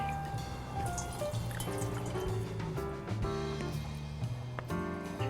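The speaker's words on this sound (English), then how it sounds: "I want to squeeze all the water out of the pulp, and that's where my dishcloth comes in handy." Water is wrung out of wet paper pulp with a dishcloth, giving a steady run of dripping and trickling liquid, faint and continuous, with no voices.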